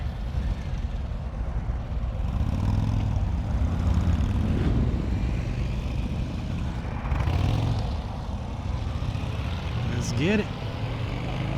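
A Harley-Davidson LiveWire electric motorcycle gets underway at a demo ride, giving a steady broadband rush of motion and wind with a brief rising whine near the end, while a person speaks briefly over it.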